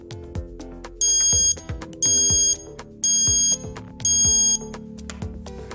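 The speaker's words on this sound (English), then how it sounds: "It's preset to ring as soon as you unplug your device." A Charger Leash alarm rings in four loud, evenly spaced electronic bursts, each lasting about half a second, over a steady background of music.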